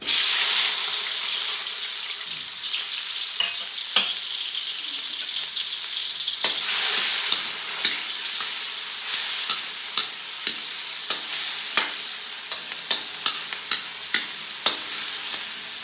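Onion, garlic and tomato sautéing in hot cooking oil for squid adobo, a steady loud sizzle with scattered sharp crackles and stirring clicks throughout, no talk.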